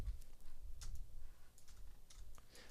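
Numbers tapped out on a computer keyboard during a mobile app design session, a quiet run of light clicking keystrokes close by, without talk.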